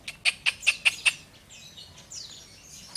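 A pet lovebird gives five quick, evenly spaced sharp chirps close by, followed by softer, fainter twittering and one last chirp, with no talk.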